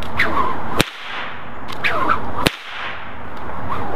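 Two sharp, loud cracks from a paracord snake whip, each preceded by a whooshing swing, spaced under two seconds apart and heard close up.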